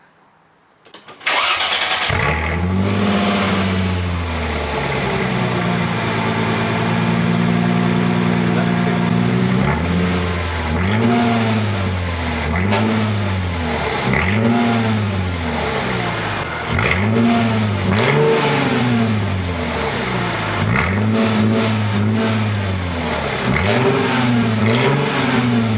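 A Mercedes CLK 320 exhaust revs repeatedly after a cold start in a garage, with a steady idle between loud, rising and falling blips close to the microphone, each rev swelling and dropping back, with no talk over it.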